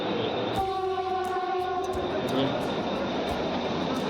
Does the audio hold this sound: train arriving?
yes